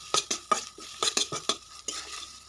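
Spice masala with turmeric and chili powder being stir-fried for ghugni, sharp spoon scrapes and clinks against the pan in an uneven rhythm over a soft sizzle, close and alone.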